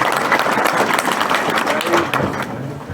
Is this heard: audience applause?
yes